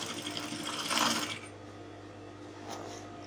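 A sewing machine stitching a ruched velvet dress, running in a steady rapid mechanical whir that gets louder and then eases to a quieter hum.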